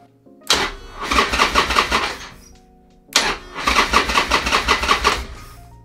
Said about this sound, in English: Okay, we're gonna try to start the bike now.